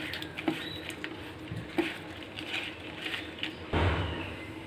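Raw prawns are mixed by hand with salt and turmeric, giving close, soft, wet squishing and patting sounds in irregular short bursts.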